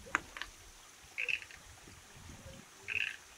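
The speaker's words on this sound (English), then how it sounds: "Hear that frog?" A frog croaks in Temescal Canyon, giving two short, fairly faint calls about two seconds apart over quiet outdoor ambience and soft rustling.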